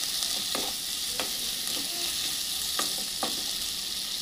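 Garlic paste, ginger paste, chopped tomato and green chili for crab curry sizzle steadily in hot oil. Four distinct scraping stirs cut through the constant frying hiss, evenly spaced and close, with no voices.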